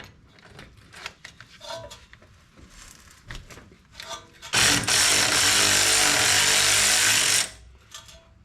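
A power wrench loosens a 19 mm bolt on the front coilover of a Toyota FJ Cruiser during a Rough Country 3-inch lift install, a single sustained close burst lasting about three seconds, framed by scattered metallic clanks and handling noise.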